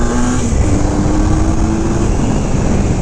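A 1981 Honda CM400T motorcycle engine on a hard pull, a loud, continuous drone held close with a steady rising engine tone and no talking.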